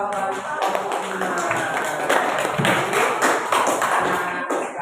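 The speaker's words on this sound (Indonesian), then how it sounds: "berikan tepuk tangan untuk jawaban kelompok 5" A classroom of students applauds a group's answer at the close of a lesson, a dense, steady patter of many hands clapping that carries on for about five seconds with no speech over it.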